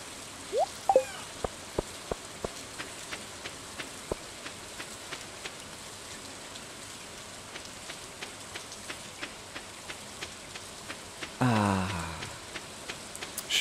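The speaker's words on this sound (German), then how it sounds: "Schöner Regentag." Soft, steady rain ambience in the farming video game Stardew Valley, a faint continuous hiss with scattered clicking taps and a brief louder swish near the end.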